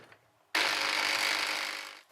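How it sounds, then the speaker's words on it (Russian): Electric mill grinding the cut-off top of a sponge cake into crumbs, a loud steady whirring burst of about a second and a half that starts abruptly and tapers at the end. "При помощи мельницы я буду измельчать вот эту вот верхушечку срезанную, чтобы получилась крошка."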